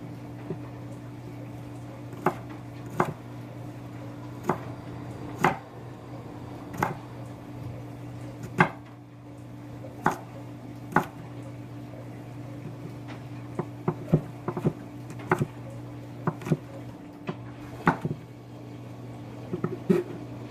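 Knife chopping garlic on a cutting board gives a slow, steady series of sharp taps, about one a second, over a constant low kitchen hum.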